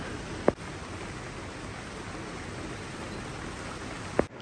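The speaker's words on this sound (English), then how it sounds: "Heavy rain squalls, strong easterly" Heavy rain squalls driven by a strong easterly wind on a moored Leopard 45 catamaran, a steady broadband hiss throughout with two brief louder knocks or gusts near the start and end, no talk.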